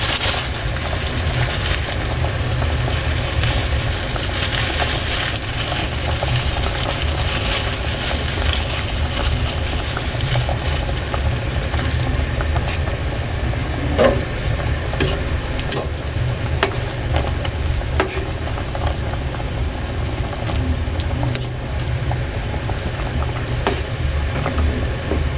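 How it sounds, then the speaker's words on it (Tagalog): Miswa noodles stirred into a pot of boiling fish soup for sarsiadong galunggong, a steady bubbling and sizzling wash with occasional spoon scrapes and knocks against the pot, no talking. "Ilagay na natin yung ating miswa."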